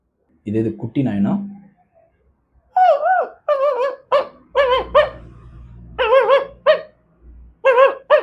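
A voice mimics a small puppy with high, wavering yips and whimpers, a run of short squeaky barks following a few lower sounds.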